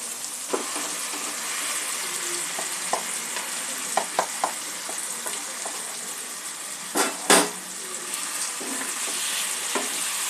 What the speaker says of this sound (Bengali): মাংসটা সমস্ত মশলার সাথে ভালো করে কষিয়ে নেব।